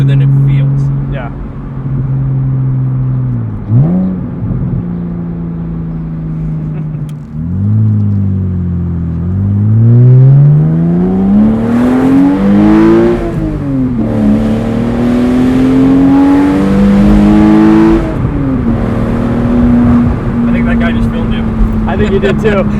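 A modified 2003 Porsche Boxster S engine pulls loudly from inside the cabin, its pitch sweeping upward through repeated accelerations with clear dips at each gear shift, then holding a steady cruise.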